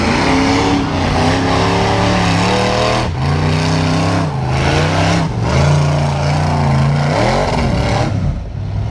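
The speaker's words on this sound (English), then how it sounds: "Most of these buggies are making around 600 to 800 horsepower." Off-road racing buggies with 600 to 800 horsepower engines, one running a small block, climbing a hill at an offroad park race in Kentucky, roaring loud and close with sustained revving, brief throttle dips and shifting pitch throughout.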